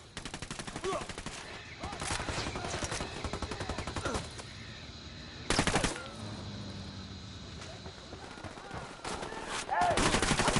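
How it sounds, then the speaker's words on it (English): Video game gunfire in Ghost Recon Wildlands: rapid automatic bursts in repeated volleys, with loud, dense stretches of firing near the middle and at the end. "Opening fire on these fuckers."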